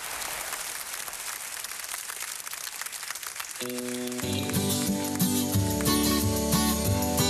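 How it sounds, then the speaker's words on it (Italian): A studio audience applauds steadily for a singer and his Sicilian pop band at a live television appearance, a dense wash of claps that continues as the band's music kicks in partway through. "con l'applauso del pubblico"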